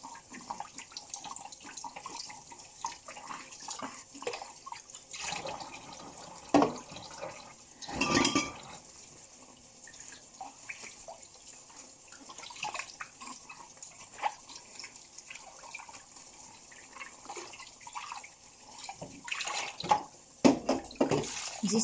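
Tap water runs into a kitchen sink during dish washing with pink rubber gloves, a steady faint trickle and splash throughout, punctuated by brief louder gushes and clatters near the middle and end, with no talking.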